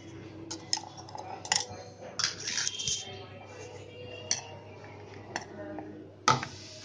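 A spoon scraping leftover cumin powder from a dish in a home kitchen, giving light clinks and scrapes in scattered bursts, with one sharper clatter near the end, under faint background hum.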